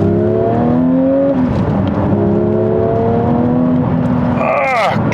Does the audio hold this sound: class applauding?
no